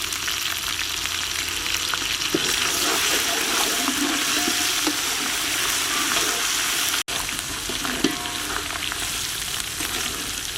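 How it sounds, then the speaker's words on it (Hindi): Ginger and garlic paste frying in oil with onions and beef for a beef lal mirch karahi, a steady loud sizzle with occasional stirring scrapes throughout, no talking. "अब अदरक और लहसुन का पेस्ट है मेरे पास 2 चम्मच के करीब, ये शामिल कर लेंगे और इसे भी थोड़ा सा भून लेंगे"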